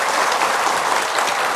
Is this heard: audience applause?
yes